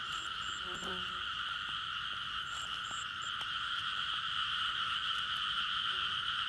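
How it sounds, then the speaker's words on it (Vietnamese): Small frogs croak at night in a steady, dense chorus of rapid repeating calls that carry on without pause, with a few brief sharper notes over the top. "giờ này còn sớm nhái còn hội kêu"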